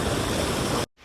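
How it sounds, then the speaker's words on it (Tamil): Loud, continuous broadband rush of cold water tumbling over rocks in a Himalayan mountain stream at Sethan, Himachal Pradesh, close by and unbroken for most of a second before cutting off abruptly. "பாறை மேலே உட்காந்து அந்த தண்ணி சத்தம் கேட்கறது இருக்கே"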